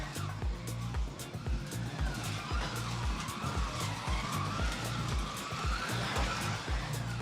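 Carrera Digital 132 slot cars race around the Dragons Tail track, their electric motors whirring and whining continuously and fairly loud, with rhythmic pulses as the cars pass through the lap.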